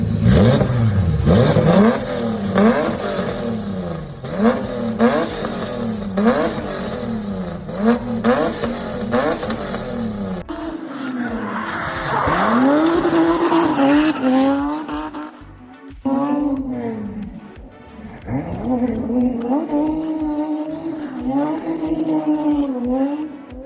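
A real-life replica of GTA V's Pegasus Infernus supercar revs hard, its engine note rising and falling through repeated loud accelerations with squealing tires, close and dominant throughout.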